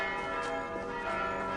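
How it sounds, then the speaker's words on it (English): Church bells ring steadily in Assassin's Creed Valhalla, a sustained, resonant metallic tone with rich overtones filling the scene without pause. "Can we turn these goddamn bells off?"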